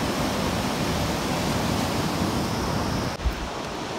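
A river flows right beside a walking path, its steady, loud rush of water filling the scene close by without pause, with no voices and a brief soft bump near the end.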